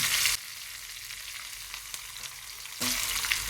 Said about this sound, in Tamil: எண்ணெய் காஞ்சதுனால இப்படியே பொரிஞ்சிடும்